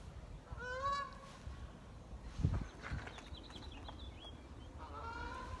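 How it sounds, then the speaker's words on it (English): A goose honks in a few short outdoor bursts, one early and one near the end, amid a spring backdrop of faint birdsong and the soft rumble of someone moving. "I hear a goose."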